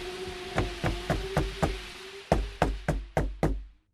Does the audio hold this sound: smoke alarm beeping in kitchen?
no